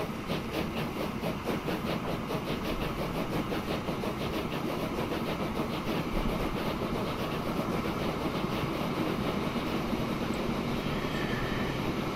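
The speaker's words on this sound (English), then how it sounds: "the train's running mostly empty" Train from the Transport Fever 2 simulation game rolling along the rails, a steady dense rumble with rhythmic wheel clatter and engine drone, continuous and even throughout with no talk.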